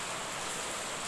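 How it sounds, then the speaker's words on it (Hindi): Steady, dense hiss of rain falling outdoors, even and unbroken throughout, fairly close and with no voices over it. "बारिश"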